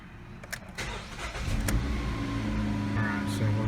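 A Jeep Renegade being worked on for a cooling fan and intake air temperature circuit fault cranks briefly with a few clicks, then catches and settles into a steady, close idle.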